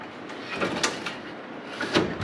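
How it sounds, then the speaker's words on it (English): A metal drawer sliding into a Husky 84-inch workbench tool chest, a continuous rolling scrape of ball-bearing slides with a couple of small knocks, close and fairly loud with no talking. "This is what it's like to stick one of these drawers in."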